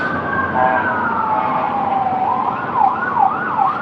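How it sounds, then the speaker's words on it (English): An ambulance siren wails continuously, rising and falling, then switches to a faster yelp toward the end; moderately loud, with traffic rumble underneath. "Ambulance"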